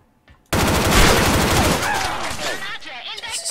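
A sudden burst of rapid gunfire in the video game Special Force 2 erupts, loud and sustained like automatic fire, tapering off into scattered shots with a voice briefly underneath.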